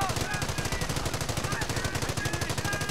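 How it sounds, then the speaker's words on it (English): Rapid machine-gun fire rattles steadily through a base under attack in the World War II strategy game Company of Heroes, a dense, continuous burst of close gunfire with battle din behind it. "Base is under enemy fire."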